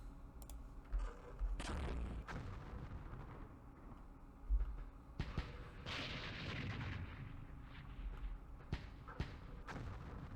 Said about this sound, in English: It's good the mortars aren't really doing anything.